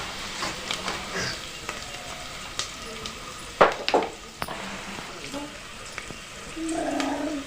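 Onions frying in oil for Hyderabad-style bagara rice, a steady soft sizzle with occasional stirring clinks and scrapes, a louder burst of sizzling midway, heard close up with no talking.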